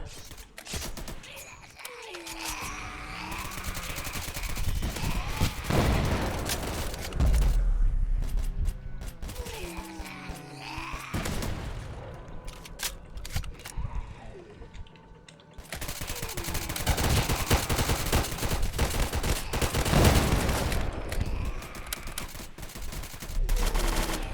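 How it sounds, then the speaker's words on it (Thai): Machine gun turret firing in the Roblox game Zombie Uprising, heard as rapid repeated bursts of automatic gunfire amid other game effects, loud and sustained across most of the clip with brief lulls. "เปิดใช้ป้อมปืนกล"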